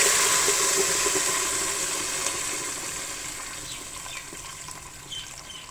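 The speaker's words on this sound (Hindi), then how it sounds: "अब हम ऐड करेंगे पहले वाला पानी जिसमें हमने गुड़ मिलाया था।" Jaggery-sweetened water poured into a pan of rice being fried for gur chawal, a steady gushing pour that gradually tapers off, with small sizzles and clinks near the end.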